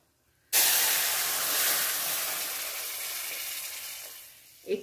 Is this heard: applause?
no